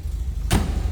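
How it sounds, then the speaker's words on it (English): A door of a 1972 MG MGB convertible shuts with a single solid thud, close by, over a low idling engine rumble. "Door closes nicely."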